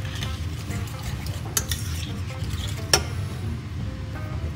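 Red wine braising liquid poured over beef cheeks sizzles in a hot pan, a steady low crackle running throughout, broken by a couple of sharp utensil clinks against the metal.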